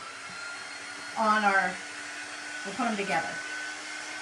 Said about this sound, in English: Let's hit this with the dryer real quick,